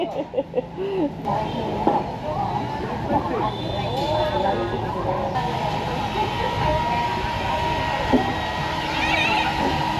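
A train rumbling slowly through a narrow residential street lined with houses and cafés in Hanoi, a steady low mechanical roar with squeals and clatter, while onlookers chatter and call out nearby.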